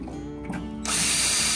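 An electric drill motor, on its lowest of three speeds, whirs up to a steady high-pitched whine after a brief lower rattle, loud and close.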